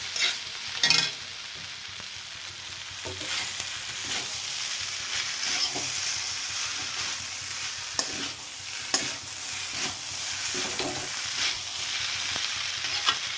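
Veg noodles with coriander get stirred in a hot frying pan, giving a steady sizzle broken by scraping and clinking strokes of the utensil, close and moderately loud with no talking.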